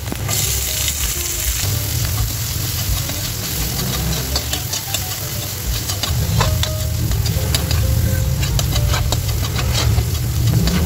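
Onions sautéing in a hot pan after garlic for pork giniling, a loud, dense sizzle that swells midway, with scattered sharp crackles and spatter over the continuous hiss.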